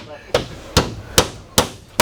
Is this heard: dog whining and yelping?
no